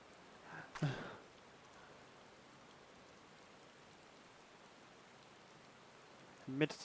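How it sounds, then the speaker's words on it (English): Soft, steady rainfall patters in the Final Fantasy XIV Shadowbringers game world, a faint even hiss running throughout, with brief louder voice bursts near the start and end. "Amidst the sound of falling rain"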